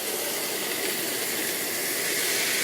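Specialty ribs sizzle steadily in a hot pan as citrus vodka and brandy hit it, a continuous close, loud hissing and crackling with no talk.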